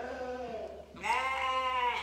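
Dairy sheep on a farm bleat in two wavering calls, the second louder and higher, close by and with no talking over them.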